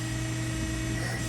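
A HARIG Bridgeport EZ-Surf 618 CNC surface grinder running, producing a steady, dense mechanical hum with a high whine, constant and close throughout with no speech.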